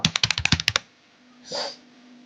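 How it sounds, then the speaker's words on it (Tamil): Quick run of about ten crisp keystrokes on a computer keyboard while typing in Tamil on a laptop or PC, close and clicky, then a short pause and a soft breathy rustle. "இப்போ தமிழ்னு டைப் பண்ணுறேன்"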